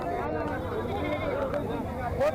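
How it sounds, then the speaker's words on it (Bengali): Goats and sheep bleat at an outdoor livestock market in Sreemangal, with wavering cries rising and falling over a busy murmur of people talking. "বাজারে বিভিন্ন ধরনের গৃহপালিত ছাগল, ভেড়া পাওয়া যায়।"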